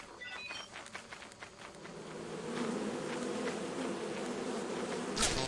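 Swarm of bees buzzing steadily around a beehive in a video game, a dense continuous drone that swells slightly louder partway through, with a brief sharper sound near the end.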